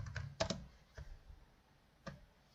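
A handful of sparse, close keystrokes on a computer keyboard, a quick double tap followed by single isolated clicks with quiet pauses between them.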